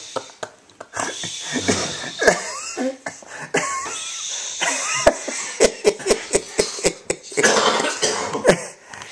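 A person coughs in a close, indoor setting, with a run of sharp, repeated coughs and throat clearing mixed with bursts of talk and movement.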